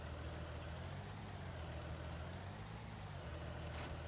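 A tractor's engine rumbles steadily and quietly while it reverses into a shed beside a grain trailer in Farming Simulator, a low continuous drone with a brief faint high sound near the end.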